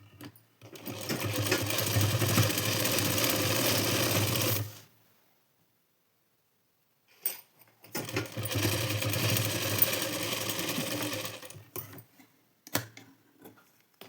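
A sewing machine stitches a blouse in two long continuous runs of steady mechanical whirring, close and fairly loud, separated by a quiet pause, with a few short bursts at the end.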